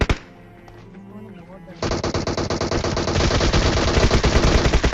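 Rapid automatic gunfire in the mobile battle-royale game PUBG Mobile: a few scattered shots, then loud sustained bursts of fast repeated shots that grow denser and louder, with game sounds and some voice underneath.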